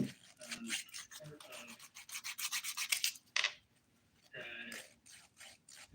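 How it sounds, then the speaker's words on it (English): Fingernails filed with the 100 grit side of a thin nail file, a series of quick, close scratchy rasping strokes in bursts with short pauses between. "I'm starting my filing using the 100 grit side of this thin file."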